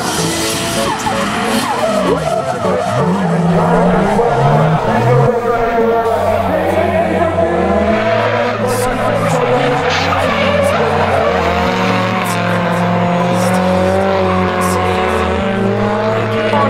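Drift cars skidding at the Irish Drift Championship at Mondello Park, with continuous loud tire squeal and revving engines bouncing on the limiter throughout, under a commentator talking.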